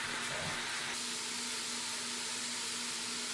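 Pork sautéing in an Instant Pot for pulled pork, heard as a continuous close steamy hiss with a faint steady tone underneath and no talking.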